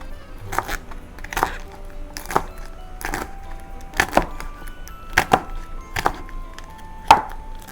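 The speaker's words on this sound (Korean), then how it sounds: "요거를 이렇게 반 갈른 거를 이렇게 해서 짤짤하게 썰어줄게요." Knife chopping halved vegetables on a cutting board for a chamoe and cucumber cold soup, with about ten crisp, evenly spaced cuts close up.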